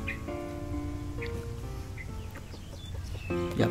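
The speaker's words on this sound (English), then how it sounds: "That's so-called kind of rooster that can fight." Several short clucks and crowing calls from a fighting rooster close by, against steady outdoor background noise in a Cambodian village.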